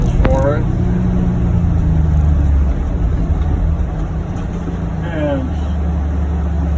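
A John Deere UVX 835M utility vehicle with HVAC rolls along a road in snowy conditions, its steady engine and tire rumble loud and close throughout, with brief squeaky whines near the start and end and a short spoken word.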